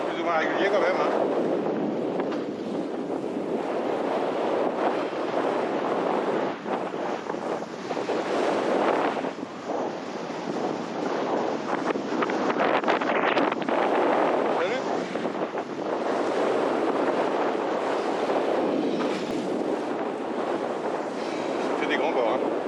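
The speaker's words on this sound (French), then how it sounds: "le vent il est fort mais plus ou moins régulier quand même" Strong, fairly steady wind buffets the microphone continuously during wingfoiling at sea, mixed with rushing water and waves against a board, while voices speak intermittently underneath.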